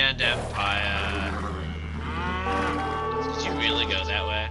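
A cow in the video game Age of Empires II gives a long, low, wavering moo that lasts several seconds and rises and falls in pitch, over a steady low background hum.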